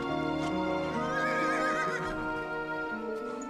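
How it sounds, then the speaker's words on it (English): A horse whinnies in a drama scene, a loud, drawn-out neigh with wavering pitch lasting about three seconds, layered over background score. "I'm guessing that's Lana on a horse."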